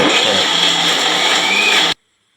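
A mixer grinder grinds curry masala with a loud, steady, whirring motor roar, close up, that cuts off abruptly after about two seconds.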